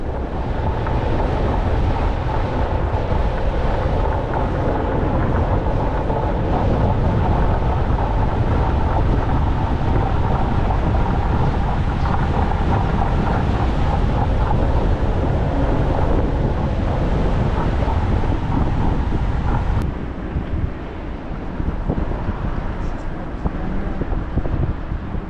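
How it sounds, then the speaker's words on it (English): Steady broadband rush of waterfalls below an old bridge in the ghost town of Thurmond, West Virginia, continuous and fairly loud, with wind buffeting the microphone and a slight drop in level near the end. "Waterfalls, you can hear them right down there."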